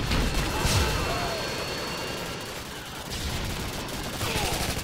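Modern Warfare 2 gunfire on a multiplayer map crackles in fast bursts and rattling volleys, mixed with impacts and game noise at moderate loudness.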